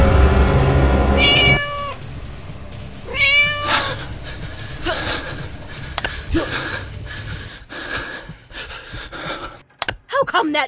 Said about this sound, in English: What's that noise? Naughty cat again.